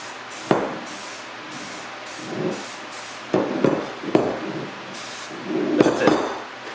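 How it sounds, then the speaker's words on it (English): A cooking-spray can hisses into a loaf pan for gluten-free banana bread, giving several short, close spritzes mixed with light metallic clinks of the pan and can. "go ahead and put our sprayer in there"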